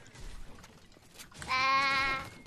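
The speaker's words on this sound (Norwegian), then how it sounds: "Sau." A sheep bleats once in a loud, drawn-out call that starts about midway and holds for most of a second over a noisy background, after a stretch of quieter low rumble.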